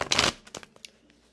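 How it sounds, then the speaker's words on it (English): Tarot deck being shuffled by hand: one quick riffling burst followed by a few softer taps and card slides, close and alone. "let's give it a few shuffles here"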